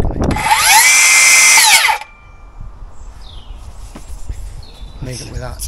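A battery-powered Forge drill runs loud and close for about two seconds, whining with a rising-then-falling pitch, then stops and leaves quiet background with faint bird chirps.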